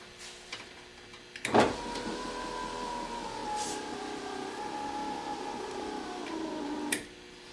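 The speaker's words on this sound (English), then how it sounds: "operate the window so that I can get it in the right position" A power window motor in a Mercedes 300D W123 starts with a click and runs as a steady whirring hum for about five seconds, then stops with another click, heard close up.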